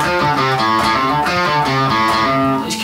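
Electric guitar with two pickups wired out of phase, strummed chords ringing continuously and loud with a thin, slightly hollow tone, no voices over it.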